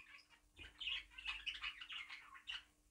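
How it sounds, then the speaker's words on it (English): Light blue budgerigar in a breeding shed, giving faint, soft chirps and chatter over a quiet room hum. "So now we come on to what is my favourite bird in my shed."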